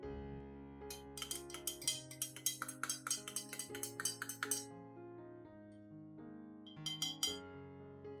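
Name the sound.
stirring lemon water solution in a glass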